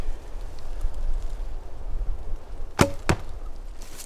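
During outdoor archery practice, an arrow is loosed and strikes a target: two sharp, close cracks about a third of a second apart stand out against steady wind and background hiss.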